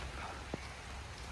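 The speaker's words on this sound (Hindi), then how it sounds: "अब अच्छी भली बारिश हो रही है।" Steady rain falls outdoors as a continuous even hiss of drops, with one brief sharper tap standing out partway through.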